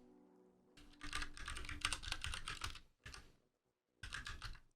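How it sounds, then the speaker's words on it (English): Rapid clacking keystrokes on a mechanical computer keyboard, a dense burst of typing followed by two shorter bursts separated by brief silences, close and moderately quiet. "Because you can hear my mechanical keyboard."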